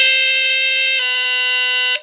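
Sunbeam Centurion 45-31 smoke detector sounding on test: a shrill, piercing electronic tone, one pitch for a second and then a second pitch before cutting off, loud and close.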